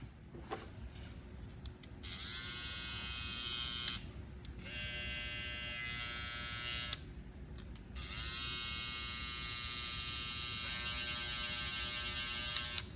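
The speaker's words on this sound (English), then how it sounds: "Tad bit louder on the trimmer and the clipper." Babyliss SnapFX hair clipper and trimmer running, a steady high electric buzz that switches on and off several times with short pauses between, close and alone over faint hum.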